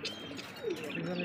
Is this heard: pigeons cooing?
yes